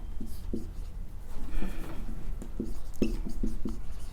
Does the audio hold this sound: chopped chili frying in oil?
no